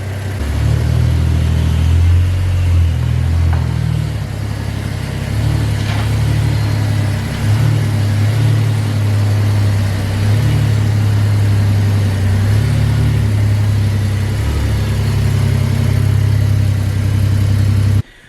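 Cars drift with engines revving, a loud, sustained low engine drone that rises and falls in pulses, cutting off abruptly at the end.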